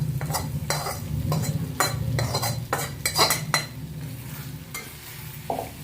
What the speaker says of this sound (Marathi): ते मिक्स करून घेऊया व चांगलं परतून घेऊया आपला टोमॅटो ठेचा